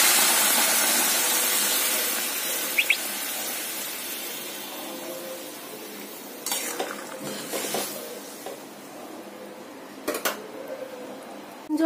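Hot water poured into a pan of prawn, pumpkin and potato curry after the spices go in, then stirred: a soft hiss fading under the pour, followed by a few clinks and scrapes of a spoon against the pot.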